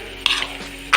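Fried chicken pieces are stirred into biryani masala in a pan, two short scraping, sizzling strokes of a spoon against metal with a quieter pause between, close and clear.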